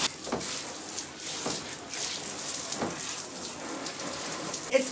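Hot water runs steadily from a bathtub faucet during a bathroom cleaning, a continuous close splashing hiss with a few brief knocks and no voices.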